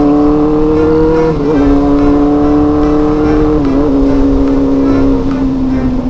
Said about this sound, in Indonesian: Pakai mesin CB400 Mon. Wah gila suaranya.